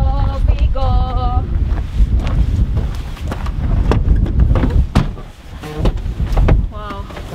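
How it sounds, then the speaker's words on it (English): Strong wind gusts hard against the microphone in heavy, rumbling bursts in Jomsom, Nepal, with brief voices and short tonal sounds breaking through now and then. "So windy."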